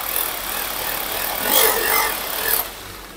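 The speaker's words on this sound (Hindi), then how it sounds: "ये देखिए अब इन्होंने जो मार्किंग करी है वहाँ पर ये ड्रिल कर रहे हैं" Electric drill boring holes into a marked wall to mount a PVC box for an IP camera on site, a steady broadband whir rising in bursts around the middle and cutting off near the end, fairly close.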